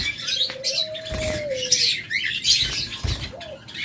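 Java sparrows in a crowded bird shop giving short, bright chirps and a few thin whistles, close and lively, with bursts of fluttering wings and scattered background noise.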